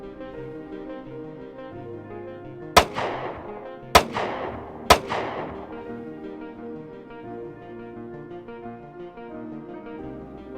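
Three loud revolver shots ring out in the assassination of Gandhi, each one sharp and echoing, spaced about a second apart over a low musical backdrop.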